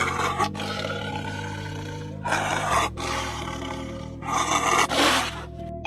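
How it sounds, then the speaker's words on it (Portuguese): A lion roars repeatedly in a series of loud, raspy, drawn-out bursts, each rough growl swelling and breaking off before the next, close and with no voices. "Leão."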